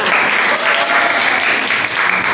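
A school class bursts into brief, lively applause during a civics quiz, a close, dense burst of many hands clapping steadily.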